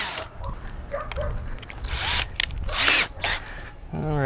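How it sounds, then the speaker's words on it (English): A power drill fitted with a larger bit bores a hole while working on a 1956 VW Beetle, heard in several short whirring bursts with brief pauses between them, close by. "Alright, let me get a bigger drill bit."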